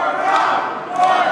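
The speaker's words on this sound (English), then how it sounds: "And the crowd wants it one more time." A wrestling crowd at an indoor championship event cheers and shouts in a steady, loud roar, with a few sharper yells rising above the mass of voices.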